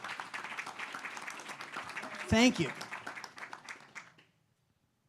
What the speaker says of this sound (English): A round of applause for all of these folks.